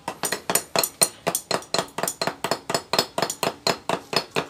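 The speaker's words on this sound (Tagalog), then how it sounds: "Ginawa nilang martilyo yung mga open range na tools natin" Open-end wrenches are banged like hammers on Shogun Pro 125 motorcycle transmission parts, a rapid series of about twenty sharp metallic clinks in an uneven rhythm, close and loud.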